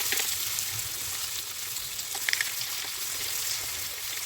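Coconut and other ingredients frying in oil for a spicy field bean curry, a steady close sizzle and hiss with faint crackles throughout and no voices.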